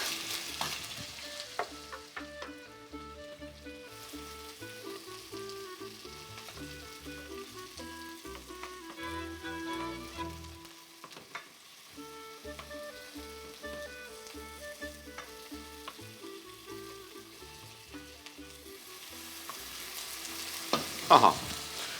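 Onion frying in well-heated oil in a hot pan: a long, steady sizzle with repeated stirring scrapes and knocks, heard close up over a soft tonal background, with a sharper clatter near the end.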